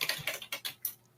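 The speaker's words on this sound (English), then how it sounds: "Look at these typing skills." Computer keyboard keys are struck in a quick, uneven run of about six close clicks that trail off, with no voices.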